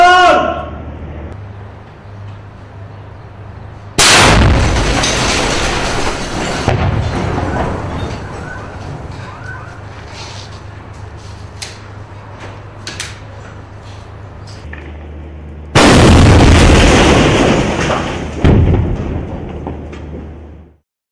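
Gunfire opening on a sniper position during a Syrian military operation in Al Kabun: two heavy, roaring bursts of firing several seconds apart, each lasting a couple of seconds, loud over a low steady hum.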